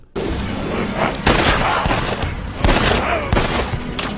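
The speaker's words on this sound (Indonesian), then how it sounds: "Cole dan Betty langsung memberondong Haris dengan tembakan." A dense burst of gunfire with several loud, sharp shot peaks over a continuous rattling roar, close and intense throughout.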